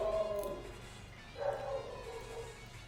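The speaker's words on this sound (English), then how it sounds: "I'm sorry they're still barking, there's just not much I can do about it." Dogs barking and yipping in the background, faint and intermittent, with a couple of short bursts over a low room hum.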